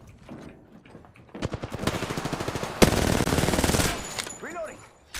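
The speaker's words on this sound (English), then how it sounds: "They're shooting at me." Rapid automatic gunfire in Apex Legends, a sustained burst of tightly spaced shots lasting a few seconds, loud and close, easing off before a faint voice and game effects.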